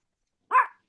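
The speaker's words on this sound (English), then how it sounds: "The puppy's talking." A puppy gives one short, close, loud bark out of silence.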